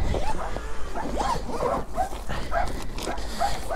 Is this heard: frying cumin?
no